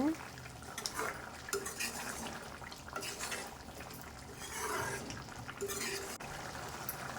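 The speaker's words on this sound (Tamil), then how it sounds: "பாருங்கள் நல்லா கொதிக்குது" A pot of brinjal and drumstick kara kuzhambu bubbles and sizzles quietly on a low flame while a spoon stirs and clinks against the pot now and then.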